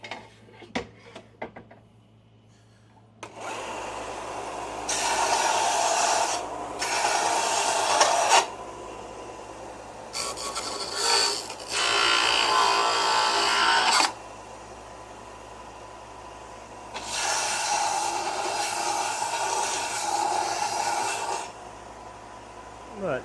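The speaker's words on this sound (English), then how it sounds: "That's something super nice about having a belt sander." A belt sander works a wooden edge to straighten it, running in several long, loud bursts of abrasive whirring. Quieter stretches with a low hum fall between the bursts, after a few sharp knocks at the start.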